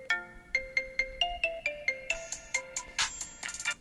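A remixed ringtone from a phone plays alone: a bright, catchy electronic melody of quick repeated tones in a steady rhythm, close and clear, with busier layered notes toward the end.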